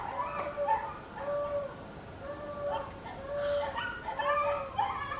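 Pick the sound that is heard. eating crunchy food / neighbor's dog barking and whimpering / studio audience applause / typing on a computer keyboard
neighbor's dog barking and whimpering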